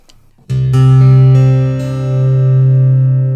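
An acoustic guitar amplified through a magnetic pickup and soundboard transducer, loud and close, with a chord struck and left to ring with a full, rich sustain.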